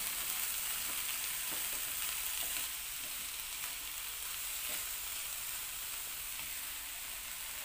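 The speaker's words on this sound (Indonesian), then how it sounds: "Selanjutnya kita aduk dulu sebentar." Bamboo shoots with galangal and bay leaves sizzling and frying in a pan, a steady hiss broken by soft scrapes and clicks of stirring, close and continuous with no talk.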